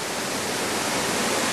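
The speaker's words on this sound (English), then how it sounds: "Following this waterfall" Waterfall at Falling Water Falls, Tennessee, above a roughly 30-foot sheer cliff drop, roaring as a steady, dense, loud wash of falling water that fills the whole clip without a break.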